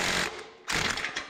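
An impact wrench with a small chrome wobble extension works on a limited-slip 8.8 axle of an LS-swapped S-10 pickup. Two close, loud rattling bursts are split by a brief pause.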